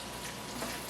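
Sweet potatoes frying in butter and olive oil in a pan, a short, faint, steady crackling sizzle with no voices.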